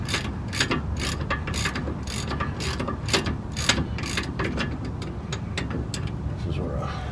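A ratchet wrench loosens bolts on the front shocks of a greasy 1984 Chevy K20, rapid clicking bursts repeating in quick strokes, close and distinct, with a voice speaking over parts of it.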